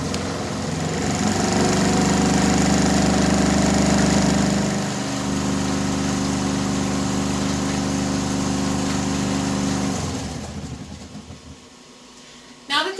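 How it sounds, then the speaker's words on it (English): A SPEX Geno/Grinder lab shaker agitates and mixes QuEChERS samples, giving a loud steady mechanical hum and rattle that shifts pitch partway through, then winds down and stops near the end. "When I press the start button, the Geno grinder will begin agitating the samples and mixing them."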